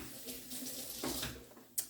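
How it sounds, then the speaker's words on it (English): A kitchen tap runs steadily as a spoon used for vegan black-eyed pea gumbo is rinsed beneath it, producing a close continuous splashing stream that ends with a brief clink. "Rinse my spoon."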